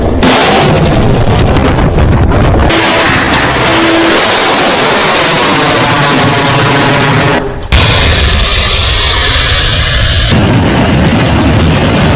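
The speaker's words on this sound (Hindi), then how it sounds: "जैसे ही पाकिस्तान की कोई मिसाइल आती है इस तरह S-400 मिसाइल दागता है" An S-400 air defence system firing missiles, with loud sustained roaring launch blasts and explosive rumble filling the whole clip, a brief break near the middle before the roar resumes.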